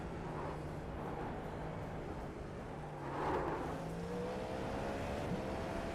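Simulated race car engine in iRacing, droning steadily throughout with a rising pitch sweep as the driver gets on the throttle, no one talking over it.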